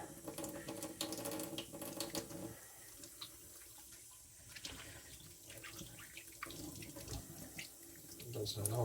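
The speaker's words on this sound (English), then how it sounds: "I'm just gonna wash my hands a little" Hands are washed under a running tap at a sink, a soft continuous splash with small drips and shifts as the hands move through the stream, fairly quiet throughout.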